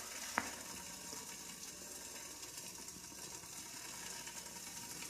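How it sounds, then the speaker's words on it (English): Water boils slowly in a pot over a homemade alcohol stove, a faint, steady hiss and simmer throughout with one small click near the start. "It's kind of a slower boil with this stove."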